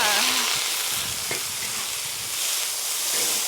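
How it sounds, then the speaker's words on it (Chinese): Bean sprouts and garlic sizzle steadily as they are stir-fried in a wok over a wood fire, a close, continuous frying hiss with occasional scrapes of the spatula. "现在我们把那个豆芽炒一下啊"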